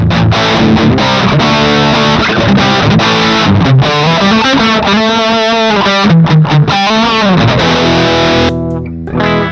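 A heavily distorted electric guitar played through a Valeton Coral digital amp plays loud, sustained chords and bending notes, thick and saturated, with no voices.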